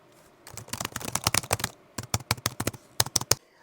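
Keys on a Chuwi Freebook laptop keyboard are pressed in quick, crisp clusters of clicky taps, close and clear, pausing briefly between bursts against a quiet background.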